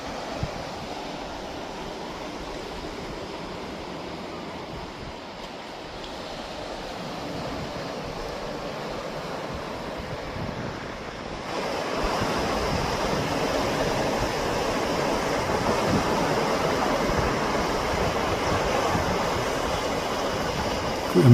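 Waves wash steadily onto a quiet beach, a continuous rushing surf that grows louder partway through, with no voices.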